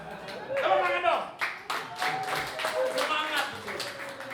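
An elderly congregation at a prayer fellowship claps along in a loose, uneven rhythm, the hand claps fairly quiet and mixed with voices and chatter throughout.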